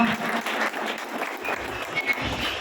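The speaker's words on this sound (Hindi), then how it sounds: "तालियां।" A crowd at a roof inauguration gathering in Pakistan claps after a pigeon-fancier is introduced, a brief burst of steady applause close by.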